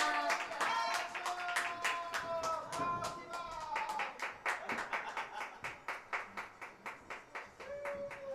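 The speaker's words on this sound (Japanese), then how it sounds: "もう一度大きな拍手を" A meeting audience applauds, first as a dense burst of clapping under a sustained tone, then thinning into a steady rhythm of individual claps that fades toward the end.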